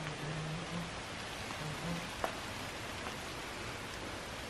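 Heavy rain falls outside an abandoned RAF airfield building at Spanhoe. It is a steady, dense hiss, heard fairly softly from shelter, with one brief knock partway through.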